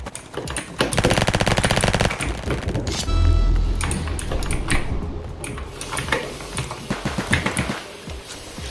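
Rapid automatic gunfire rattles in a video game, a loud close burst followed by scattered shots and clattering effects, with no talk.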